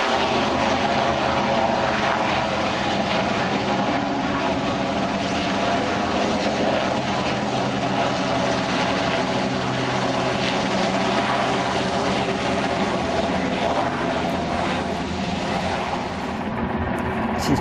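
A rescue helicopter sorties in to land at a campsite during severe flooding, its rotor and engine drone loud and steady throughout, heard alone with no talk.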